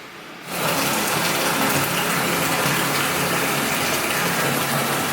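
Hotel bathtub filling with water for a bubble bath, a loud, steady gushing rush from the tap that starts suddenly after a brief quieter moment and continues unbroken, close by with no talking.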